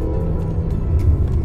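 A Peugeot car runs on a test drive in Côte d'Ivoire, its engine and road noise a steady low rumble heard from inside the cabin, with no voices over it.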